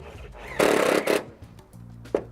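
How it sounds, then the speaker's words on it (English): A power drill driving screws through the front lip of an aluminium eaves trough and into the fascia board, heard as a loud whirring burst with a short second pulse, followed by quieter handling sounds and a brief knock. "We screw it both in the front lip of the eaves trough as well as to the fascia board."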